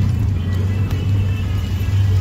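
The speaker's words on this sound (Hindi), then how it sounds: "बहुत ट्रैफिक है" Road traffic in Mumbai heard from inside a moving car, a steady low engine rumble and road drone that stays loud and even throughout.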